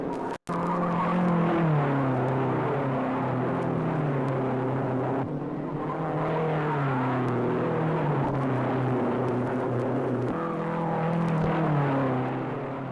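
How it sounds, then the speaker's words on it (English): Race cars at the 1955 Indianapolis 500 scream past in a continuous loud roar, engine notes rising and falling as cars pass one another, with no speech in the clip. "Up the backstretch, Vukovic passing, moving into second place"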